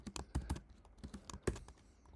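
Keys clatter on a computer keyboard in short, irregular bursts of clicks as C++ code is typed, quiet and close, with brief pauses between keystrokes.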